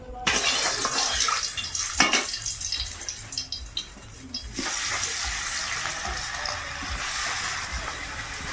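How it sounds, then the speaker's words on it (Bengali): Paneer pieces fry in oil in a wok, giving a steady bright sizzle and crackle with occasional clatters as the pieces are moved, close and fairly loud. "কড়াইতে এখন তেল দেব, দিয়ে পনিরগুলো আগে ভাজব।"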